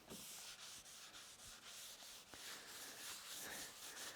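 Finish being rubbed into a wooden jiu-jitsu belt display rack by hand, a faint, close, continuous rhythmic rubbing with repeated strokes and no talking.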